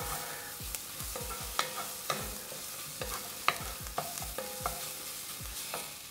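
Curry paste frying in a hot pot for a vegan squash soup, a steady sizzle broken by regular scraping strokes of the spoon, close and clear, no voices.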